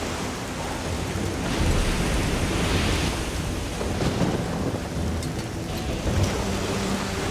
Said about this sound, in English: In this storm?